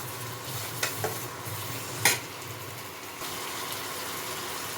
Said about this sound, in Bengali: এটাও ভালো মতন ভেজে নেব পেঁয়াজের সাথে।